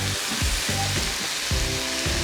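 Smoked paprika goes into plant-based meat frying with garlic and mushrooms for a quesadilla filling, producing a steady close sizzle with a few soft scraping stirs and no voices.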